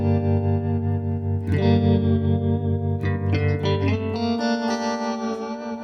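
Electric guitar chords through a Super Reverb amp ring out with wavering tremolo, lush reverb and trailing delay echoes, played alone and fairly loud.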